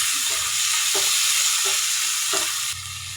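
Tomatoes sauté in a pan for fish sarciado, giving a continuous close sizzle with soft periodic stirring scrapes roughly every second, then the hiss drops and quiets near the end.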